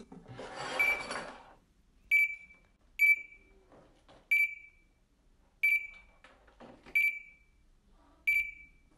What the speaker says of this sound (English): even when taking the cap off and relieving the pressure from inside, the beeping doesn't stop